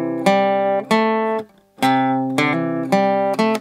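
Bass notes from the acoustic guitar part of a song ring out as six picked notes, each sustaining clearly, close and alone with a brief gap midway.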